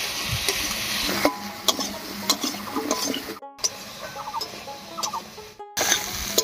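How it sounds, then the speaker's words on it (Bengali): Cubed potato and pumpkin fry in a pan with turmeric and salt, a close, soft crackling sizzle broken by scraping and stirring clinks from a spatula, with no talking. "আলু আর কুমড়োটাকে একটু ভাজা ভাজা করে নেব"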